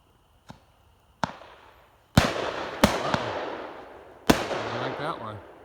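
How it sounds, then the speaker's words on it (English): A Shogun Stars, Stripes & Solids 15-shot firework cake fires sharp, loud booming shots at irregular intervals, each followed by a crackling, fading tail. "This is one of those cakes where it's usually a 9-shot triangle, but it's actually 15 shots."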